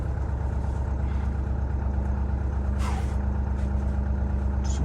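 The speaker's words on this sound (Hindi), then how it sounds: "चलो गाड़ी स्टार्ट हो गई एट लास्ट।" Mahindra Thar engine idling after a cold start at about -30°C in winter Spiti, a loud, steady diesel rumble throughout with a brief hiss near the middle and no talking.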